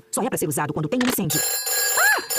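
A fire station telephone in a Peppa Pig cartoon rings briefly after a voice speaks, a short warbling ring with a steady tone held behind it.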